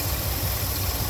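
A Cadillac 8-6-4 engine idles roughly around 800 to 900 RPM after sitting unused for three months, giving a steady, close, low rumble with an uneven, faintly missing beat.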